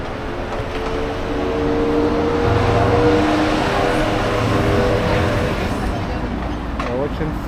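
Street traffic at the junction of Rachelle and Saint-Denis in Montreal: a steady, fairly loud wash of car engines and passing vehicles with low rumbles and tonal hums, continuous throughout with no clear gaps.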